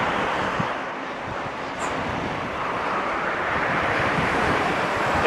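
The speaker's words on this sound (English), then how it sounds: "Super windy." Loud, constant wind buffets the microphone with a roaring rumble throughout, like gusts blowing steadily across an exposed mic outdoors while cycling Japan Route 16.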